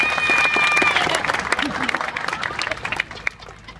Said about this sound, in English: How about a great big round of applause?